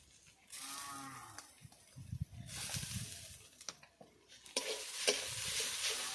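Potato filling with salt, chili powder and turmeric is stirred and mixed in a pan for pumpkin leaf rolls, with quiet scraping, soft sizzling and intermittent clatter coming in bursts.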